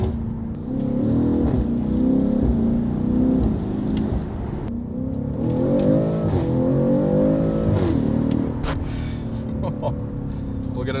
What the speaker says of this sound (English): You almost get like E39 M5 type sound, like that growl that these V8s should have had from factory.